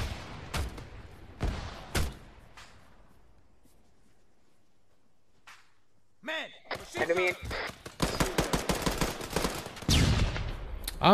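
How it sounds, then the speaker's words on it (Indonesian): ARMA 3 gunfire cracks out as a few sharp shots, then a pause, then dense rapid bursts of automatic fire that grow louder toward the end, with a voice briefly speaking between them. "Apa lagi tembak aku ni?"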